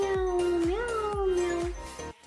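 A voice imitates a cat's meow in a drawn-out, sliding, sung tone over a soft rhythmic beat. The meow is loud and close and trails off abruptly at the end.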